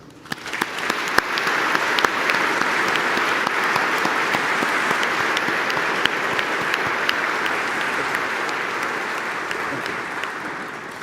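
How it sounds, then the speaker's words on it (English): Sustained round of applause from conference participants in the Festsaal at the SnT 2019 opening session, honouring the unsung heroes of the international monitoring system; a large hall of even, continuous clapping with scattered sharper claps standing out. "I will invite all participants to give a big round of applause to Sunny and all the unsung heroes of the international monitoring system."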